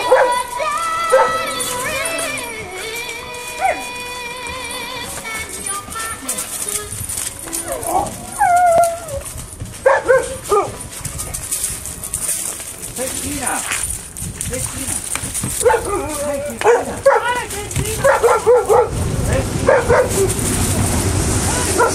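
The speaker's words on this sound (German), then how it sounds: "Schauen wir uns nochmal die Hunde an" A group of dogs barks, yips and whimpers in irregular bursts at close range, mixed with people talking and other background sound.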